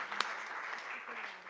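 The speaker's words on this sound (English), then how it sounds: "can you give everyone an applause for coming up with all those questions?" Audience applause in a talk or workshop hall, moderate clapping from a seated crowd, steady and somewhat distant, with one sharper clap standing out near the start.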